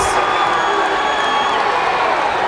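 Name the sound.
arena crowd cheering a huge suplex in an MMA fight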